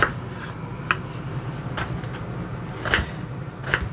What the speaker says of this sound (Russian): Не сильно мелко нарезаем одну достаточно крупную луковицу.